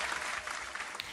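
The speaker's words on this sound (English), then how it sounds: "Clap it up for that." Brief audience applause during an interview with a comedian: steady, moderately faint clapping from a small group, lasting about a second with no one speaking over it.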